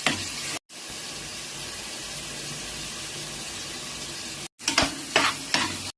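Tomatoes with ginger and garlic sautéing in hot oil for a squid gravy, a steady close sizzle with brief breaks and stirring scrapes near the end.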